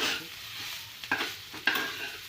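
A spatula scrapes and stirs egg bhurji in a wok, with two distinct scraping strokes over a soft background sizzle.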